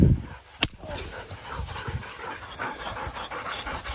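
Dogs panting heavily and close by with a sharp bark-like burst early on, the rapid breathing continuing steadily under faint background noise; no clear talk.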